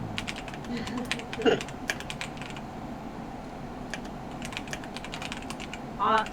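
Typing on a computer keyboard, with continuous bursts of rapid key clicks in an irregular rhythm, close and moderately loud, with a few louder thumps and a faint murmur of voices underneath.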